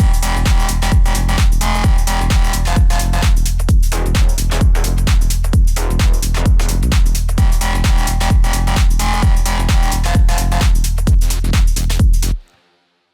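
A pounding 130 BPM tech house drop with a steady four-on-the-floor kick, driving bass and layered synths, loud throughout before cutting off abruptly near the end.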